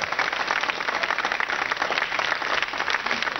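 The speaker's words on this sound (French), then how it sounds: "Vous allez l'applaudir très très fort" A French television studio audience applauds a guest, steady dense clapping at an even level for over three seconds with no talk.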